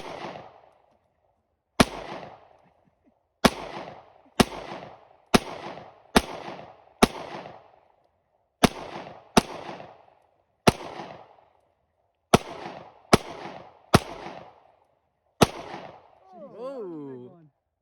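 A Glock 26 pistol loaded with FMJ ammunition fires at a plastic bottle about seven feet away: about a dozen loud, sharp shots at irregular intervals, some in quick pairs. A brief voice follows at the end.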